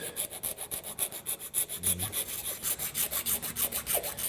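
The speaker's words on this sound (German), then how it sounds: "schleife ich oder feile ich das jetzt ab, damit das Loch ein bisschen größer wird" Rapid rhythmic scraping of a file or sandpaper back and forth on plastic in a Kia Ceed, enlarging a hole for a USB stick, steady strokes close up, with no voices.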